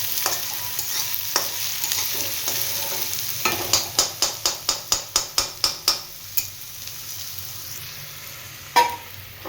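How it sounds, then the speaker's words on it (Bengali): Sliced onion sizzling in a hot pan, a soft continuous frying hiss broken by a rapid run of about a dozen sharp spatula scrapes and taps against the pan, then a few isolated knocks. "পেঁয়াজটা দেখছেন আমাদের ততক্ষণ লাল হচ্ছে, এটা আমাদের চালাতে হবে একটু অল্প।"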